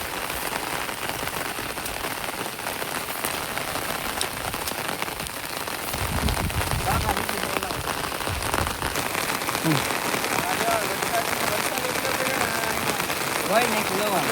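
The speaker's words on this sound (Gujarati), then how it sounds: "વરસાદ એ નિરાત લેતો નથી જાય." Heavy rain pours steadily onto surfaces nearby, a dense, even hiss of drops that swells slightly louder partway through and keeps going without letting up.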